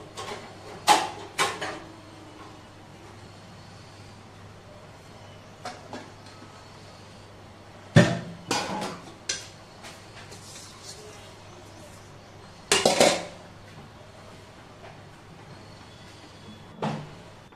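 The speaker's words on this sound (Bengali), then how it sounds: "মশলাটাকে ছোট হামানদিস্তি করে গুঁড়িয়ে নিচ্ছি।" Panch phoron spices pounded in a small metal mortar and pestle, a few sharp isolated strikes and scrapes spaced seconds apart over a quiet background hum.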